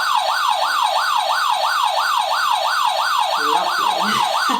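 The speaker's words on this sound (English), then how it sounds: "I think when you put your foot on the foot pedal, the headlight lights up, and it's also quite noisy." A toddler's ride-on toy vehicle blares a loud electronic siren, rising and falling in a fast, regular wail close by, with a brief clatter of other noise near the end.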